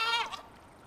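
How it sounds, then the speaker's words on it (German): A goat in the survival video game Icarus lets out one short bleat, fairly close and clear, then the sound drops away. "Da vorne ist eine Ziege."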